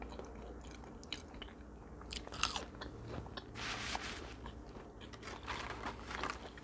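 French fries being bitten and chewed close to the microphone in an ASMR meal alongside a tuna burger, soft repeated crunches and mouth sounds at a quiet level with no talking.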